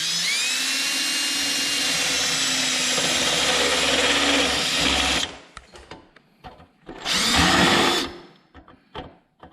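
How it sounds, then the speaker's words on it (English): A loud, steady high-pitched power drill with a spring-loaded spot weld bit whines for about five seconds drilling out a spot weld on a salvage Subaru, stops, then gives one more short burst amid clatter. "It already has a drill bit for a pilot hole, and it's spring loaded. And you just start drilling."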